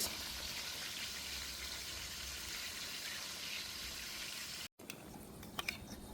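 Whole cinnamon, cloves and white cardamom sizzle in hot oil with a steady, close hiss and crackle, broken by a brief gap near the end before lighter sputtering resumes.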